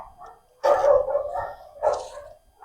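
Adoptable dogs in animal shelter kennel pods bark nearby, two loud rough barks about a second apart with fainter yips and echoing kennel noise between them.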